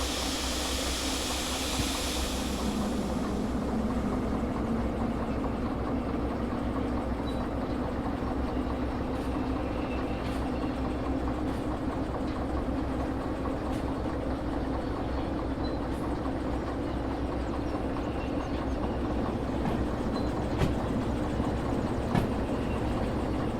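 Locomotive in the train simulator game Derail Valley running steadily with a continuous low rumble and rail hiss, a faint rhythmic clatter of wagons throughout, no talking.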